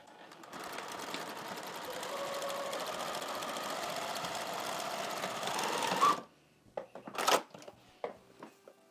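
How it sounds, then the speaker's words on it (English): A sewing machine runs steadily while back stitching and then stitching a 5/8-inch seam down fabric, a continuous whirring rattle for about six seconds before stopping, followed by a few brief clicks and handling sounds. "I'm just going to back stitch and then stitch all the way down"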